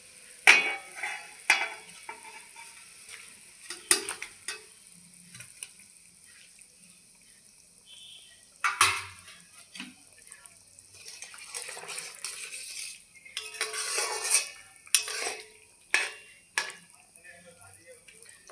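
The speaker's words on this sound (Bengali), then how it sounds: "আমি এখন ভেজে রাখা পটলগুলো দিয়ে দিচ্ছি।" Fried pointed gourds go into a bubbling gravy and are stirred. Scattered wet splashes, scrapes and soft sizzles come close by between quiet stretches.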